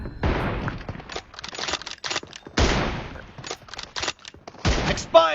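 Gunshots from an M24 bolt-action sniper rifle in a mobile battle-royale shooter's 1v1 team deathmatch: three loud, booming reports with trailing echoes, separated by busy bursts of quieter distant gunfire and clicks.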